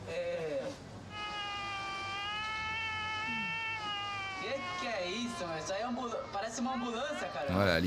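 A voice imitates a Formula 1 racing car engine with a steady high droning whine that holds and then dips and wavers, over background noise, with other voices chattering toward the end.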